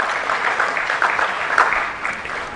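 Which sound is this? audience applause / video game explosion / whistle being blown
audience applause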